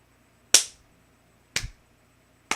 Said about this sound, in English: Legit slow clap for Punk.